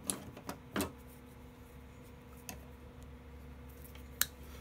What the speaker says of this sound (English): So I'll go ahead and cut that off and get it out of our way right now.